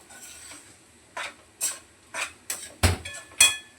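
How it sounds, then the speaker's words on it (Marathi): Kurdai sautés as vegetables are stirred in an uncovered pan on high gas, with a run of short, scraping spatula strokes and clinks against the metal that grow louder and sharper toward the end. "आता फास्ट गॅस चांगली परतून घेते झाकण वगैरे काही ठेवायचं नाही"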